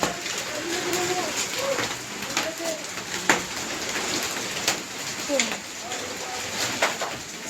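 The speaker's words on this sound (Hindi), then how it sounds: "बहुत देर तक बारिश हो रही है" Heavy rain and hail pour steadily with sharp hail impact clicks scattered through it, while pigeons coo softly nearby and faint voices murmur in the background.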